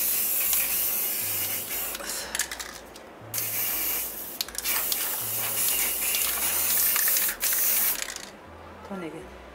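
White spray paint hisses onto a wedding toast glass in steady bursts with short pauses, close and loud, with faint handling noises between sprays.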